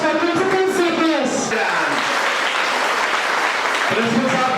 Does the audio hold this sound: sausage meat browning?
no